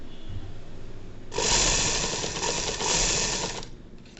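A sewing machine stitches the neckline of a kameez, its motor starting up after a quiet whir and running in a loud, steady, close buzz for about two seconds before slowing and stopping.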